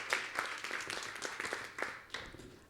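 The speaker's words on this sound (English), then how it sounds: "Big round of applause, everybody." An event audience claps in a short burst, the individual claps clearly separated and uneven, fairly close and of moderate loudness, with no speech.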